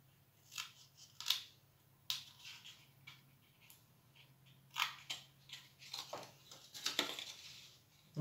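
A knife cutting squares of chocolate for an Easter treat: a few sharp, close crisp snaps and cracks at irregular intervals, fairly quiet with soft handling noise in between and no talking.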